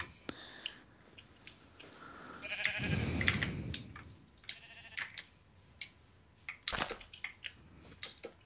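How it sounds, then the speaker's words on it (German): Sheep bleating in the Minecraft video game, with a louder bleat cluster near the middle over scattered game clicks and taps; no talking. "Schafe."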